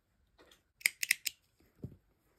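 Scissors snip through a strand of yarn for a crocheted watermelon cup holder, a quick cluster of three or four sharp, close clicks followed by a softer rustle as the yarn is pulled.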